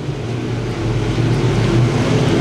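IMCA Northern Sport Mod race cars roar out of turn 4 at Thunderhill Speedway, a loud, steady blend of engines at full throttle with no pause.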